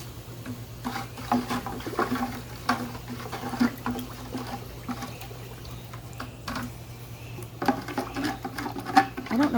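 Water in hydroponic containers is stirred, giving soft intermittent sloshes and splashy taps over a steady low hum of a pump nearby.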